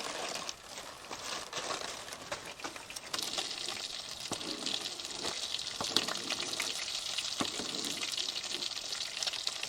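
A single large burger frying in a small pan on a campsite stove, giving a steady broadband hiss and crackle that grows louder after a few seconds and runs continuously, fairly close, with no talk.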